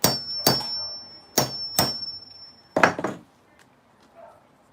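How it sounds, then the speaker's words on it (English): A hammer strikes a metal leather hole punch six times in uneven pairs, each hit a sharp ringing clack up close, then a quiet pause follows. "let me go ahead and punch one. And I'm going to use the hammer."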